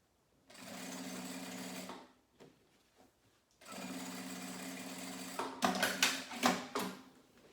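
Sewing machine stitching the full seam of a fabric cosmetic bag with a 3.5 stitch length, two steady whirring runs separated by a pause, then a burst of louder, choppier mechanical clatter toward the end.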